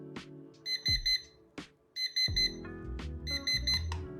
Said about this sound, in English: Once the timer runs out, it will sound a simple alarm.